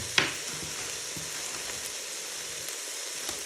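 Onions sizzle steadily in the pot of a Ninja Foodi pressure cooker, a close, even crackle with a sharp pop at the start and occasional small spits.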